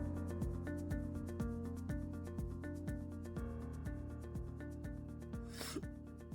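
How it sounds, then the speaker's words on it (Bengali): A spatula stirs ginger-garlic paste and ground spice paste in a pan, a steady scraping rub running throughout beneath louder background music. "দিয়ে ভালো করে নেড়ে নেব।"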